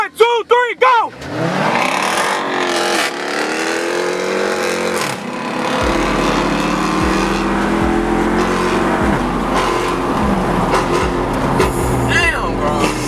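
Muscle cars launch in a city street race, engines revving hard at the start, then a loud, sustained roar as they accelerate away, with voices faintly underneath.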